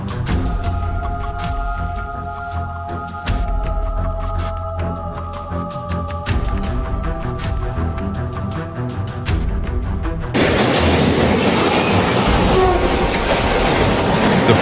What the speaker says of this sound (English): A coal train derailed at Paskov Station with 21 cars coming off the tracks